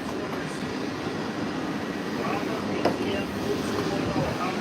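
Steady, close rumble inside a Walt Disney World monorail carriage in motion, a dense, even roar with faint rattles, heard alone without talk.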